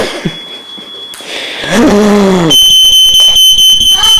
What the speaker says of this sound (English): Critical alarms go off in the house as Michelle tries to...